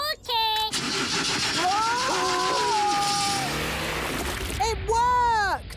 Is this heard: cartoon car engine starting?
yes